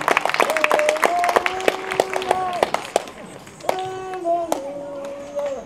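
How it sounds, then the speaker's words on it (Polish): An audience at the final concert of the VIII Szprotawskie Divertimenti festival claps sharply and fairly rhythmically while sustained singing voices carry over the top, then the clapping thins and resumes with more singing. "Dobrze odczytuję państwa oklaski."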